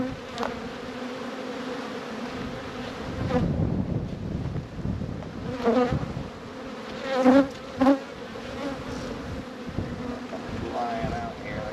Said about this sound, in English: This one's full of bees though.